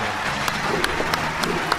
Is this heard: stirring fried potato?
no